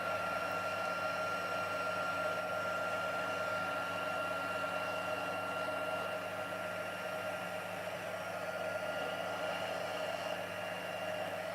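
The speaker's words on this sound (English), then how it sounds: "using my heat tool, I'm going to melt that powder." Heat tool blowing hot air to melt embossing powder on a glittery Halloween card, a steady whirring blower hum with a constant airy rush, close and unbroken throughout.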